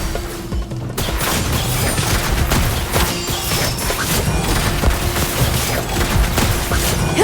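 Gunfire in the video game Genshin Impact comes as a dense, loud barrage of shots and crashes over a constant hum of game sound, with no pause.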